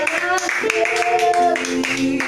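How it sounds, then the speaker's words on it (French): A church congregation claps hands in acclaim of the Lord during a morning service, a steady blended patter mixed with loud singing or talking and music. "Il faut acclamer le Seigneur ce matin."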